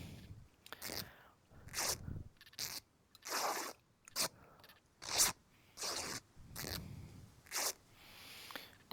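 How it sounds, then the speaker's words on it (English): In the survival video game SCUM, underwear is cut up into rags, heard as a quick series of sharp tearing and snipping bursts with short gaps between them, fairly quiet and with no speech. "I'll cut up my underwear."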